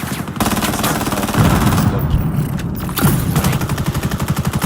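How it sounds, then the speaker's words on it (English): Rapid automatic gunfire during a video game tournament match, with dense bursts of shots that fire back to back and fill the whole stretch, loud and close, sometimes overlapping, with no speech. "Through those boxes, a whole bunch of gunfire."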